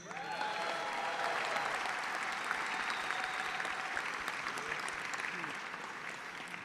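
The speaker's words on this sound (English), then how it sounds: "How about a round of applause for the Cavaliers?" An auction crowd in Detroit applauds steadily, a broad mass of clapping with some cheering underneath that holds level for several seconds and then eases slightly.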